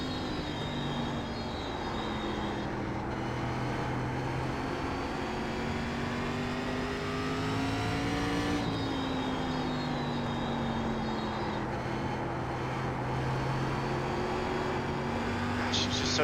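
SRX race car engine in the iRacing simulator, a loud continuous howl with pitch climbing and falling through gear changes as the car laps the track, steady and close throughout.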